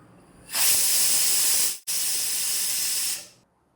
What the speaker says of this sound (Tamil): நல்லா 2 விசில் வந்ததுக்கப்புறம் பார்க்கலாம் நாங்கள்.